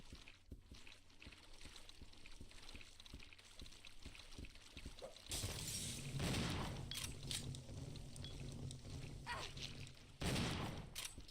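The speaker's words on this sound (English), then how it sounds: "Thank you, Billy, for shooting a shotgun shell at Rebecca to specifically get rid of the bugs." Shotgun blasts in the game Resident Evil Zero: a quiet stretch of scattered clicks and ticks, then a loud, broad burst of gunfire with a trailing roar, followed shortly by a second heavy blast.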